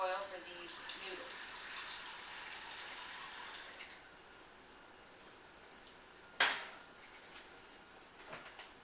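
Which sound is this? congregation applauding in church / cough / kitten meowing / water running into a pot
water running into a pot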